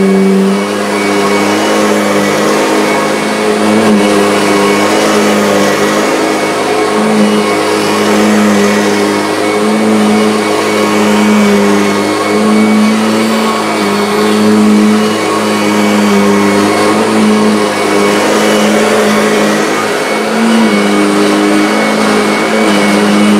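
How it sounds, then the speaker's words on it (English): A Kirby vacuum cleaner runs with its tech drive engaged, giving a loud, steady motor drone with a constant tonal hum that holds without a break throughout. "I'm going to engage tech drive now"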